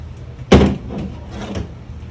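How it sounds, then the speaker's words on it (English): A MARSfarm grow chamber door is pulled open, giving one sharp loud clunk of the latch followed by a softer scrape and a faint thud as it swings. "I'm going to open this door"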